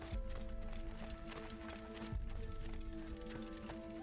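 Horse hooves gallop in the original Assassin's Creed game, a steady run of muffled clip-clop thuds under continuous game music with sustained tones, with a couple of heavier hoof impacts standing out.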